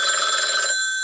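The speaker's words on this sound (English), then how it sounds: "Oh, Maya's trying to ring me" A telephone rings once in a bright electronic trill, loud and close, then fades with no talk over it.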